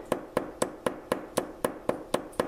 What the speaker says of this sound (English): Tap, tap, tap with the ball peen end.